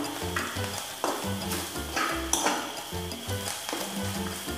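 A spatula stirs and scrapes ingredients frying in a pan for chira polao, a flattened-rice pulao, with steady sizzling under repeated rhythmic scraping strokes, close and fairly loud, with no voices.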